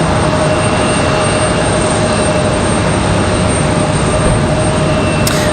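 An airliner arriving from Portland, Maine comes in to land at Raleigh-Durham International Airport, a loud, steady broadband engine roar sustained through the whole stretch, with no speech.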